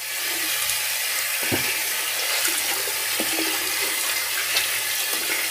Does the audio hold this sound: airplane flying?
no